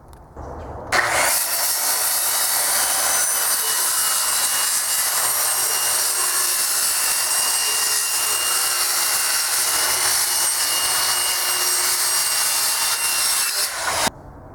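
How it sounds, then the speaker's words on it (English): A power saw cutting a full sheet of plywood into shelves, a loud, steady high-pitched whine that runs unbroken for about thirteen seconds before cutting off sharply. "I had a full sheet of plywood, and I cut it"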